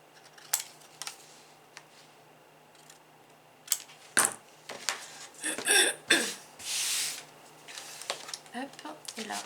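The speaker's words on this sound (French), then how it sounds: "je vais biseauter mes 2 bandes de collage" Scissors snip at paper glue strips while bevel-cutting them for a 3D sliding card, producing a few sharp close cuts and rustles between quiet pauses, with bits of soft handling noise.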